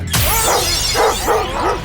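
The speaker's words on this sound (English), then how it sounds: "Uh-oh, they let the big dog out." A big dog barks several times in a loud, close, evenly spaced run, used as the segment intro on a Baton Rouge ESPN sports talk radio show.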